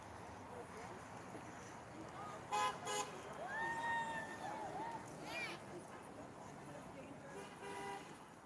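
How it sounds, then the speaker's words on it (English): Passing cars honk in support at an outdoor No Kings protest in Lakewood, Washington: a few faint, distant horn toots and a longer sustained horn over steady wind and crowd noise, with people speaking. "People driving by honking in support."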